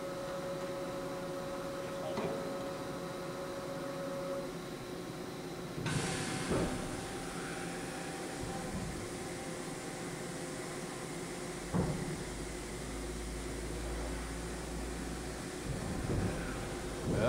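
A Doosan horizontal machining center runs with a low, steady hum and hiss, broken by a few clunks and a sharp burst of air or coolant partway through, heard at moderate distance without talk.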